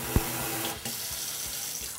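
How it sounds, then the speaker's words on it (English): Water runs steadily from a newly plumbed kitchen faucet into a sink, a close, constant splashing hiss with a small knock near the start and no talk. "She has water, looks good. I love the faucet."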